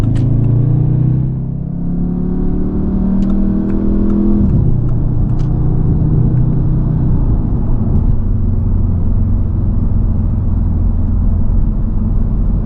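A 2019 Audi TT S sports car's engine drones steadily from inside the cabin, its pitch shifting once as it changes speed, with a constant road rumble and a few light clicks.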